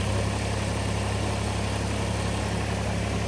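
A Kubota BX compact tractor fitted with a HydrosPlus Turbo+ idles steadily after starting, a constant close engine drone with low rumbling throughout.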